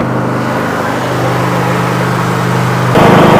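A petrol generator engine runs steadily while warming up, giving an even, droning hum that grows a bit louder and rougher near the end.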